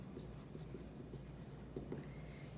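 Pen or marker scratching across paper or a board while an equation is written, a quiet, continuous scribbling texture with small taps, alone without talk.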